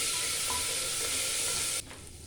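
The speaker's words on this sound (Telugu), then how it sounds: "1 స్పూన్ అల్లం వెల్లిపాయ పేస్ట్ వేసి బాగా కలిపి పచ్చి వాసన పోయేసి బాగా కలుపుకొని" Ginger-garlic paste with curry leaves stirred in a hot pan for mixed vegetable rice: a steady, close sizzle with soft scraping that drops off sharply near the end, no voices.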